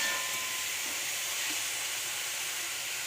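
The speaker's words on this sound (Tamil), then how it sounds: "வெங்காயம் நல்லா எண்ணெயில் வணங்கணும்." Onions sauté in hot oil for an egg curry, a soft, steady sizzling hiss heard close with no talking.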